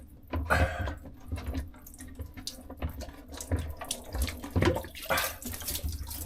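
Water trickling and splashing out of a boat's filter housing as it is unwound aboard a Nordhavn N51 motor yacht, an uneven run of close splashes with brief louder gushes.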